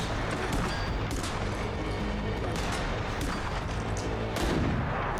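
Gunfire in a dramatic TV episode, a dense, loud barrage of shots and booming impacts running throughout with no clear pauses, everything at full level.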